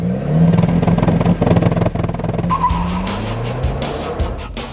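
A Renault Clio RS driving hard on a racetrack, with loud engine revving, gear changes and squealing tires, close and continuous throughout.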